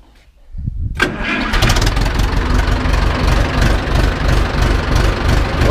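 An Ursus C-360 tractor engine cranks and fires up after a brief quiet moment, then settles into a loud, steady, throbbing idle close by for several seconds.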